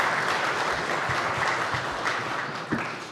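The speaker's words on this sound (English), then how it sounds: "please give them a round of applause for me" Conference attendees at a Caribbean digital leadership event give a brief, loud round of applause, a thick wash of many hands clapping at once with no talk over it.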